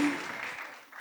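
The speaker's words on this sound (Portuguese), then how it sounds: "vamos aplaudir o Noah aqui" Church congregation applauding during a sermon, a brief burst of clapping that fades quickly within about a second.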